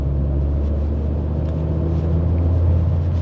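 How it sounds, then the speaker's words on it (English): Audi RS3 fitted with an ECS valved exhaust in comfort mode accelerating slowly, a steady low bass drone and rumble heard from inside the car, continuous and fairly loud. "So on to driving with the ECS exhaust system."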